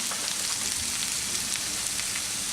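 Grated maan kochu, a giant taro, sizzles in hot spice masala in a pan, giving a dense, continuous crackling hiss that stays loud and close throughout, with no talking.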